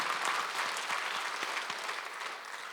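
A church congregation claps during a Sunday worship service, a dense, steady applause heard alone at moderate volume, easing slightly toward the end.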